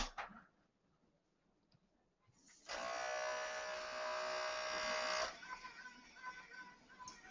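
A direct-to-garment (DTG) printer machine resetting: a steady, loud mechanical whir with a motor hum runs for about three seconds after quiet clicks, then drops to a softer rattling buzz.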